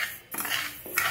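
A metal spoon scrapes and clinks against a pan as moong dal is dry-roasted and stirred, two close, brisk stirring strokes with no talk.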